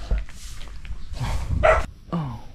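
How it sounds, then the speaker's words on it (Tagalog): A dog barks outdoors on open rural land, giving several sharp barks and yips at moderate distance in uneven bursts. "Kaso aso naman yung narinig natin."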